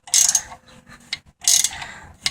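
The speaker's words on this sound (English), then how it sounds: "a handy dandy gear wrench is definitely nice to have for a scenario like this" A gear wrench ratchets on the oxygen sensor of a Triumph Daytona motorcycle, two bursts of rapid clicking separated by a pause with a few lone clicks, close and clear.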